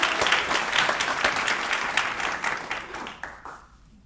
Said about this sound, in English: So if you can give him a round of applause as he comes